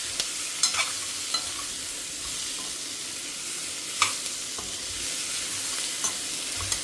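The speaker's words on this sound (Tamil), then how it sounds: "ஸோ ஓரளவுக்கு வதங்கிட்டே வருது, இன்னும் கொஞ்சம் வதங்கணும்" Sweet potato and ingredients for a tamarind curry sautéing in a pan, a constant bright hiss of frying broken by occasional clinks and scrapes of stirring, close and alone.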